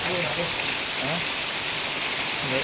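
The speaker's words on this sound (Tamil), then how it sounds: "மழை பாருங்கள் சும்மா பிச்சு எடுக்குது" Heavy rain in a windy storm, a dense, continuous steady roar of downpour close by, with faint voices murmuring beneath it.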